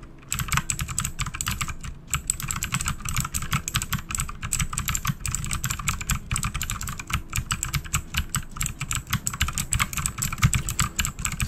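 Computer keyboard typing picked up by a Blue Yeti condenser microphone in stereo mode, the typist and keyboard on one side with music playing opposite; a steady, dense run of close, fast keystrokes fills the whole stretch without any talk.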